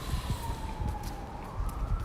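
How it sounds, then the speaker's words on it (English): Police car siren wailing along a London street during a protest near Parliament, a steady rising tone that carries on for the whole stretch over a rumbling crowd and traffic background. "Yeah, there's a police car up there."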